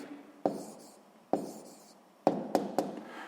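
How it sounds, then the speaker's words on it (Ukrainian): A hand writes out a math answer on paper: five quiet, sharp pen taps, spaced apart at first and then bunched together, each fading quickly. "Записуємо відповідь."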